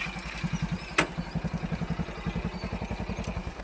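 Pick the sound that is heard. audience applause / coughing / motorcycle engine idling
motorcycle engine idling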